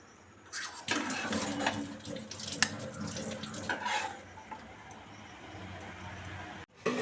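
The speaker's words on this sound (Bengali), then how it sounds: "এবার তরকারিটা একটা জায়গায় ঢেলে নেব" Pumpkin chhenchki curry is scraped and poured from a pan into a container with soft, close clinks and scrapes of a spoon against metal, over a faint background hiss.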